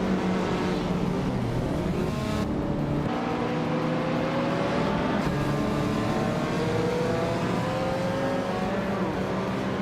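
Race car engines in a racing video game, including a 2008 Subaru Impreza WRX STI with an old turbo, roaring and revving continuously, with gear changes and rising pitch sweeps, loud and close with no talk.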